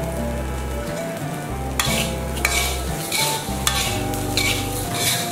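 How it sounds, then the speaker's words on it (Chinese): Salt and Sichuan peppercorns stir-fried in a pan give a loud, continuous dry sizzle, with several sharp scraping and clattering strokes of the utensil as the mixture is tossed, and no voices. "把盐炒干后放一些花椒，"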